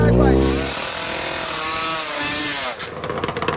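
Vintage two-stroke drag bike engine revving hard, a loud raspy wail that sweeps up in pitch, drops, then climbs again with a crackling edge near the end.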